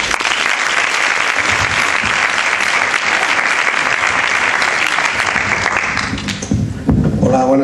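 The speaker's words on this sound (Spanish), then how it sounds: "Un aplauso." An audience at a local history lecture in Oliva de la Frontera applauds in a loud, dense burst of clapping that holds steady for about six seconds, then stops abruptly and gives way to a speaker's voice.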